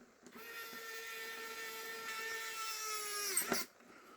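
A hobby-grade electric screw gun drives a screw into a Skynetic TBM Avenger model plane: one continuous whirring motor tone held for about three seconds, then winding down with a brief clatter, close up.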